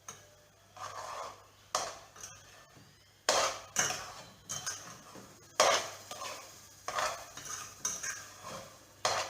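Curried fish mixture being stirred in a metal pot, with repeated sharp scrapes and clanks of a utensil against the pot at an uneven rhythm, close by.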